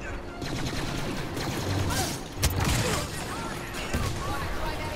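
Dense, continuous gunfire from Star Wars Battlefront, with sharp impact bursts scattered through the clip and a voice talking over the shooting.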